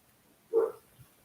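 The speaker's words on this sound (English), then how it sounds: "now my dog's barking at somebody." A single muffled bark from a dog indoors reacting to someone outside, short and fairly distant, followed by a faint low huff.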